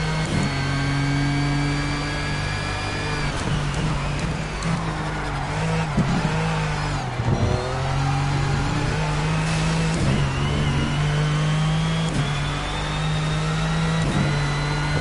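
Road car in the racing game Project Cars: a steady engine drone rising and falling in pitch through gear changes, with tyre noise underneath, continuous and loud throughout.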